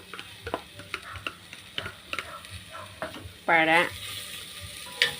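Cilantro goes into a pan of frying potato peel and egg, with soft sizzling, a few light stirring clicks and one brief louder hiss, all fairly close and quiet.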